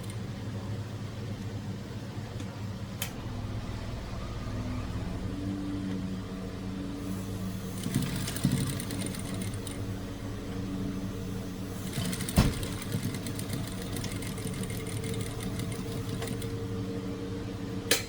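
A sewing machine stitches fabric in a continuous whirring, motor-driven hum with faint rhythmic needle chatter, steady and close, broken by a few small clicks and slight speed changes.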